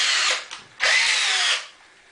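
Power drill with a step drill bit boring pocket-screw holes in oak or cherry face-frame wood: two loud, close bursts of high whining, the second longer, each ending abruptly.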